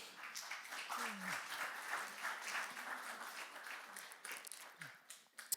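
Sustained applause from a church congregation, dense clapping throughout with a few brief voices underneath.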